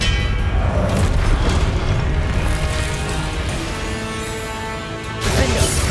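Spell combat in the wizarding video game Hogwarts Legacy, with an Expelliarmus cast giving a loud, dense burst of magical blast and crashing energy that sustains for several seconds and swells again near the end.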